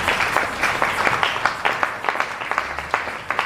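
A church congregation applauding during a Sunday service, a steady patter of many hands clapping at moderate volume with uneven accents and a low hum beneath.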